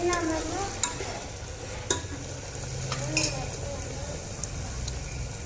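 Onion tempering sizzles in a pan for a green chickpea curry, a steady frying hiss with scraping stirs and a few sharp clinks of a spoon against the pan. It is close and moderately loud.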